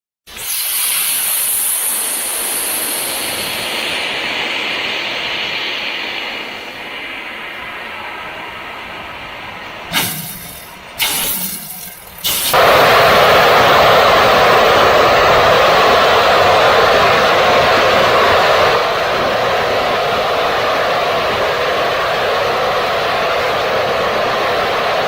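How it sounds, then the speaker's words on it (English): Phoenix liquid rocket engine, the third-stage engine of Gilmour Space's ERIS rocket, test firing with a loud, sustained close-up roar that briefly stutters midway, then resumes even stronger and continues steadily to the end. "That was the testing of the Phoenix liquid rocket engine."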